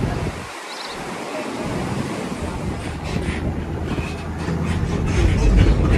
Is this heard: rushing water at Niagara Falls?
yes